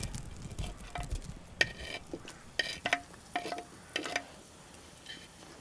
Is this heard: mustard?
yes